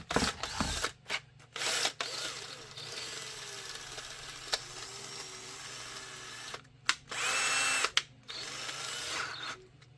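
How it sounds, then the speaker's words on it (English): Power drill boring retention holes in a holster for a Canik Rival pistol, loud bursts of whirring, the drill starting and stopping several times between quiet pauses. "Drill the retention."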